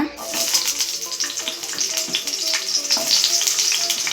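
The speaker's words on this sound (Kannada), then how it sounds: "ಈರುಳ್ಳಿ ಎಲ್ಲ ಸ್ವಲ್ಪ ಗೋಲ್ಡಿಶ್ ಕಲರ್ ಆಗೋವರೆಗೂ ಫ್ರೈ ಮಾಡ್ಕೊಳ್ಳಿ." Chopped onions sizzle and fry steadily in a pan while a paneer masala is being cooked, a continuous close crackling hiss with small stirring clatters, heard alone without talk.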